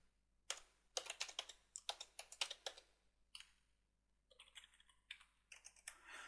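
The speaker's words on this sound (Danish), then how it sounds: "Og du skriver din e-mailadresse ind." An email address is typed on a computer keyboard, with rapid bursts of close, soft key taps and clicks, rhythmic runs broken by short pauses, quiet and with no voices.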